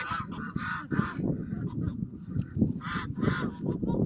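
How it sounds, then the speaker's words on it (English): A goose being fattened for butchering on a farm honks repeatedly in loud nasal bursts nearby, over a low background of other fowl chatter. "This goose, I'm just fattening up for butcher later."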